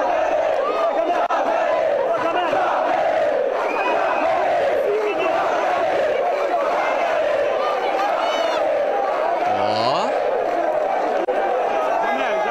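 A football crowd at Pacaembu stadium, a dense roar of fans chanting and shouting continuously throughout, loud and sustained with voices mixed in.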